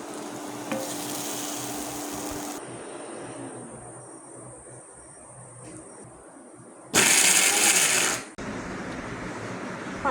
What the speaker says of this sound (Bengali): আমি এখন এটা ব্লেন্ডারে দিয়ে দেবো।